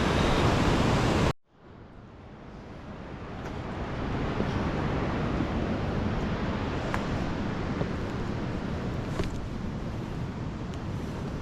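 Steady broadband roar of ocean surf on the Olympic Peninsula coast, continuous and fairly loud after a brief cut near the start, with possible wind buffeting on the microphone.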